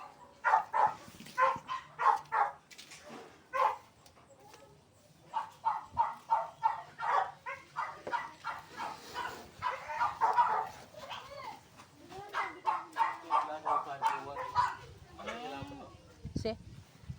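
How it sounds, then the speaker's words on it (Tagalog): Caged dogs barking in repeated bursts, close and loud, with people talking throughout on a hog farm. "mga aso ang nakakulong."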